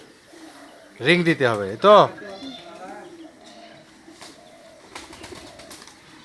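Pet pigeons at a home give a couple of loud, wavering coos close by, and people talk quietly throughout.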